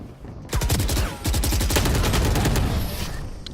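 Rapid gunfire in a tactical shooter video game with a spike objective, a dense stream of close, loud, evenly spaced shots running almost continuously for over three seconds after a brief burst near the start, without speech.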